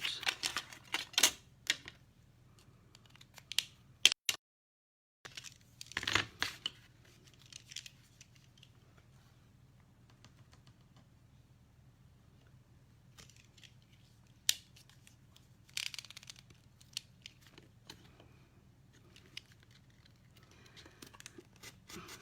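Scissors snip out a paper house front piece for a craft, close and fairly quiet, with irregular clusters of crisp cuts and paper rustles separated by pauses.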